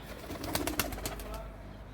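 Gök takkalı pigeons coo in brief, soft, throaty pulses at moderate distance, over a steady background hum.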